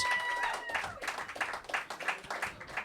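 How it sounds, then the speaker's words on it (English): Audience at a roast battle comedy night claps and cheers to vote for comedian King Kells, a loud burst of crowd noise rising after a voice at the start and carrying on steadily. "Try to only clap for the one comedian that you want to win."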